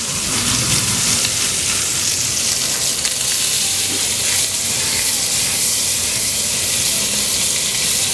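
Bacon frying in a pan, a loud, steady crackling sizzle with dense hiss that runs unbroken throughout, no voices present.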